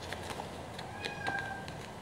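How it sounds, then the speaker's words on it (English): A house cat meows faintly a few times in a quiet indoor room, soft and somewhat distant. "That's our cat, Ollie."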